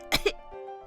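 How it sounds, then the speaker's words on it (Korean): Two quick, breathy coughs close by, a short double burst followed by a faint hum. "물방울은 기침이 나왔어요."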